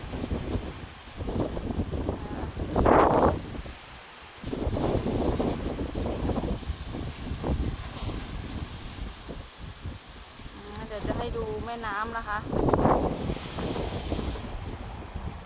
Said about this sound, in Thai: นี่นี่ตอนนี้ลมกำลังแรงนะคะ